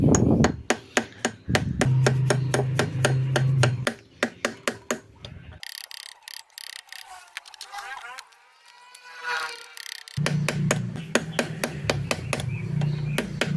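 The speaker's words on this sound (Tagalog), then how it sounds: "pukpukin natin siya gamit martilyo" Steady, rapid metallic hammer taps seating a motorcycle steering ball race in quick rhythmic runs, close by, pausing midway for a stretch of quieter clinking before the tapping resumes.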